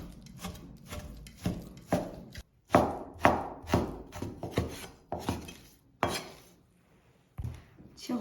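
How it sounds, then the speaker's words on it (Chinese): A kitchen knife chops raw pork into small pieces on a cutting board, sharp close thuds landing in an uneven, rapid rhythm and pausing briefly between bursts, with no voices. "接下来给它切成小块。"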